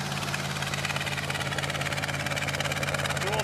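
Ford Maverick Grabber engine idling through a dual exhaust with dual tips, a steady low rumble with a fast, even pulse, close and continuous with no talk over it.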